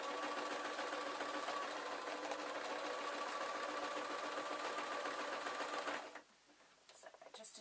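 A sewing machine stitches a heart-shaped fabric face onto a bat soft toy, running in one steady, fast whirring buzz for about six seconds, then stopping abruptly, leaving quieter handling noises.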